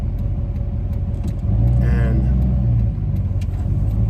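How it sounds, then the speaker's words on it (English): Steady road traffic rumbles through a town, with one vehicle swelling louder mid-clip as it passes close by before settling back into the constant drone under a brief spoken word. "there's a lot of traffic on the road today"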